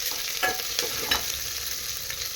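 Chopped onion frying in a mustard-seed tempering of hot oil, a continuous close sizzle with a few scraping stirs of the spoon, no voices.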